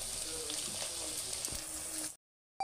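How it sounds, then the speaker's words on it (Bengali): Vegetables frying in oil with ginger and garlic paste for chilli chicken give a steady close hiss and sizzle that runs unbroken, then cuts to silence before a brief burst returns. "আদা আর রসুনটা ভাজা ভাজা হয়ে গেছে"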